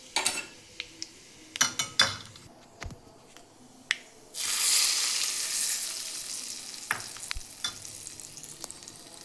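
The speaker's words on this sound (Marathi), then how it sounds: "तेल गरम झालेलं आहे, तडका द्यायचा आहे।" Cumin and red chili powder are tempered in hot oil for a raw mango chutney: a few sharp crackles and pops, then a loud burst of sizzling that settles into steady frying with scattered spatters.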